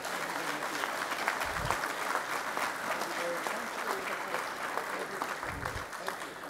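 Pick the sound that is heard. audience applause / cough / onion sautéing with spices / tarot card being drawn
audience applause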